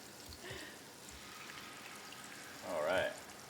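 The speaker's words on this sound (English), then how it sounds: "let's get a nice little crepe going in here." Crepe batter sizzling and spattering in a hot pan, a steady soft crackle with a brief louder swell near the end, fairly faint.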